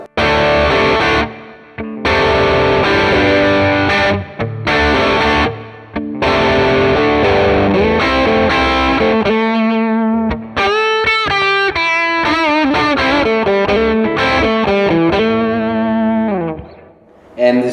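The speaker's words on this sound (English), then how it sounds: "The first overdrive channel sounds like this," An electric guitar plays through the first overdrive channel of a Marshall AVT 100 amp, gain around 4 to 5, giving loud, distorted sustained chords and then a quicker riff with bending notes that rings out at the end.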